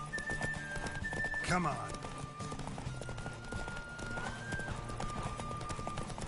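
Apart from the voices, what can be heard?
horse galloping, from video game Witcher 3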